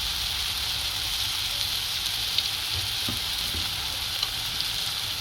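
Homemade Agri masala spice blend frying in oil in a pan, a steady dense sizzle throughout with a few soft stirring taps, close and fairly loud, no talking.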